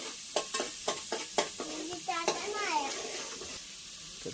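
Chopped onion is stirred in a pan on a wood-fired stove: a quick run of sharp scraping clanks, then continuous sizzling frying, with a voice briefly heard over it.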